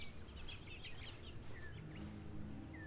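Game birds in The Stanley Parable, a few short clucking, chirpy calls over a steady ambient bed, fairly soft and close, with no talking.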